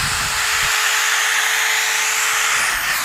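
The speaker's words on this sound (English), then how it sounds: "we've got far too much foam up here. We don't need all that. So we're going to chop it." Excess upholstery foam on a chair frame being cut with a powered blade, a loud close steady whine with a constant pitch that holds for about three seconds without talk.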